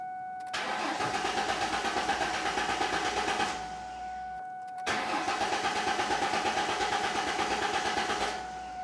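A 1994-2004 Ford Mustang engine cranks and catches, idles steadily for a few seconds, cuts off briefly, then starts again and settles into a close, even idle.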